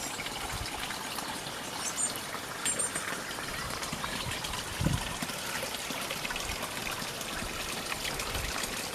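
Steady trickling spring water runs down a stream bed, a continuous close burble with a few brighter splashes and faint bird chirps in the background.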